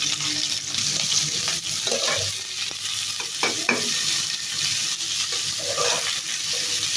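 Chopped onions fry in a pan for a home-cooked beef curry, giving a steady close sizzle with intermittent stirring scrapes and no talking.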